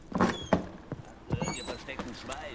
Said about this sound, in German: Das war gar nicht mein Pferd.